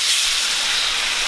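Shaoxing wine hits a hot wok of beef stir-fry with ginger and shallots and gives off a loud, dense, steady steam-like hiss throughout.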